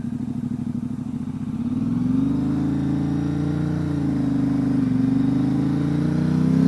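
A 2019 Ducati Diavel 1260 S with a Termignoni exhaust thrums loudly and close, its deep pulsing engine note swelling as the throttle opens and then holding a strong, steady drone.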